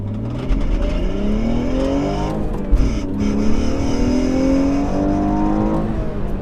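A stock 2018 BMW M240i accelerates hard during performance testing, its engine note climbing through rising revs with shifts between gears, loud and close throughout.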